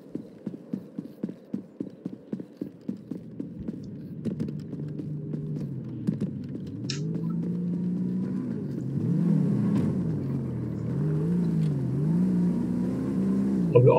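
A car engine drones and rises and falls in pitch while driving in GTA 5, after a run of rhythmic clip-clop steps at the start. The engine grows louder toward the end.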